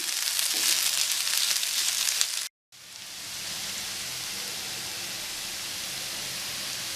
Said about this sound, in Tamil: இஞ்சி பூண்டோட பச்சை வாசம் மாறுற வரைக்கும் நல்லா வதக்கிக்கலாம்